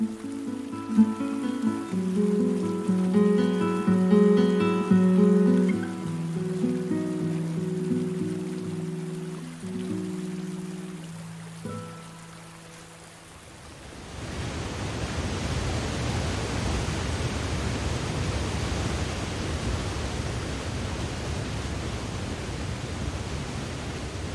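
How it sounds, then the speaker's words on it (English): Niagara Falls roars as a steady, dense wash of broadband water noise filling the second half, preceded by music that fades out before the falls take over. "But Niagara Falls has the great force"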